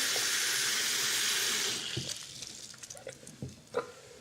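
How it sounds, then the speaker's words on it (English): Water poured into a glass: a steady hissing pour at first that thins into scattered drips and small splashes, close and fairly quiet, with no speech. "when you fill up a glass of water"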